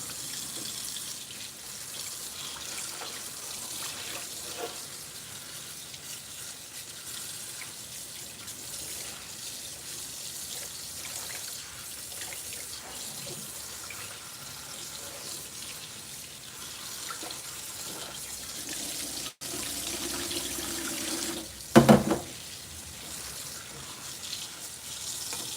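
Greens being washed under cold running water in a kitchen sink during holiday meal prep: a steady, close hiss of tap water runs throughout, with a brief louder splash and clunk near the end.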